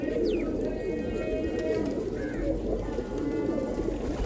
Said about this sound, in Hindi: ये भी बड़ा अच्छा कबूतर है यार